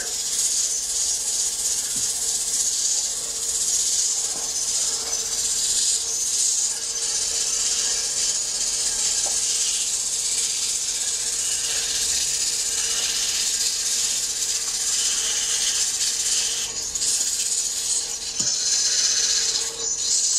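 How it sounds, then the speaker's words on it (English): A sandpaper strip wrapped under a wooden brush, held in both hands and drawn with very light pressure, makes a continuous close rasping hiss that runs without pause, with faint knocks now and then. "The strip's wrapped underneath. I'm holding it with two hands. Very light pressure. Let the sandpaper do the work."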